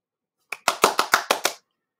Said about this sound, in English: Random clapping.